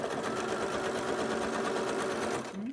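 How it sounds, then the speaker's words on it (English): Sewing machine stitching the seams of a flying geese quilt block, a steady rapid mechanical whirr held close and continuous before slowing at the very end. "I'm just going to be sewing it from the top here with the D strip on the top."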